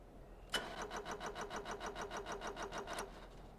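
In Stormworks, a vehicle engine turns over with a fast, regular starter whir that chugs steadily for about two and a half seconds and then stops, never catching.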